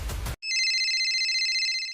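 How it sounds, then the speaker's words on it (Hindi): A mobile phone ringtone starts abruptly after a short burst of noise, then repeats as a bright, steady electronic ring filling the rest of the clip. "इतने में मनन का फोन बजता है।"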